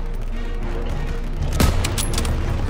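Gunfire in Call of Duty: World War II on a street battlefield: a sharp close shot near the middle and scattered later reports over a constant background din of combat, no speech.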